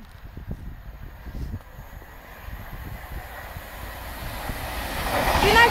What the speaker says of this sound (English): That's another unbranded Pendolino.